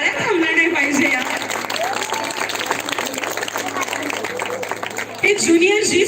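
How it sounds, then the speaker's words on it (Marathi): Parents applaud at a preschool annual day, with continuous dense clapping and crowd babble over a raised voice talking through a loudspeaker and some music. "टाळ्या थांबल्या नाही पाहिजे"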